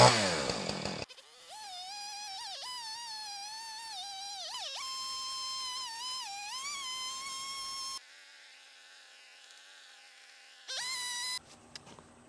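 A chainsaw cuts freehand through a 4x4 board, its thin buzzing whine rising and falling in pitch as the cut goes on. There are short pauses, and a quieter idling spell comes near the end.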